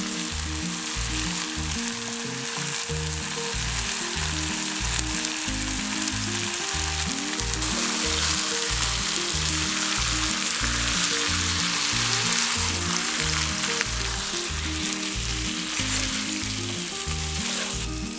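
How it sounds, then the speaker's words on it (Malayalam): Chicken pieces sizzle in oil in a pan for a roasted Kerala-style chicken curry. A loud, close, continuous frying hiss carries steady rhythmic stirring thumps throughout, with no voices. "ചിക്കൻ എണ്ണയിൽ കിടന്നിട്ട് നന്നായിട്ട് വഴന്നിട്ടുണ്ട് കേട്ടോ"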